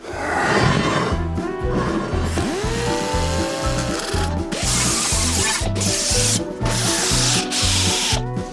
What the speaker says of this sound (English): I'm going to take a little die grinder with a disc on it.